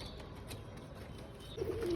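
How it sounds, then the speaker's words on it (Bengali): Pigeons coo softly from opened coops, a faint low murmur that swells louder near the end over quiet background noise. "তো পায়রা খোপ সব খুলে দিয়েছি,"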